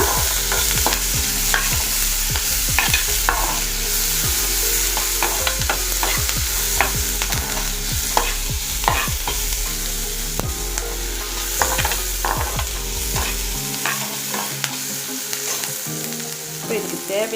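Crushed garlic and onion are sautéed in a pan, giving a loud continuous sizzle under rapid rhythmic knocks and scrapes of a stirring spoon, heard up close with no one talking.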